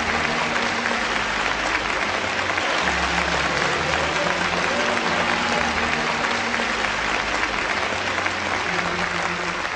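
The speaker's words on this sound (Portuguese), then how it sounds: "Um aplauso para o Senhor." A church congregation at a ministry school session applauds the Lord, loud continuous clapping from a large crowd filling the whole stretch, with a low droning tone underneath.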